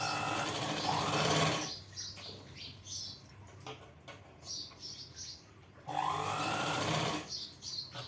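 A sewing machine stitches a blouse in two loud, fast-running bursts, one at the start and one near the end, with quieter handling sounds in the pause between.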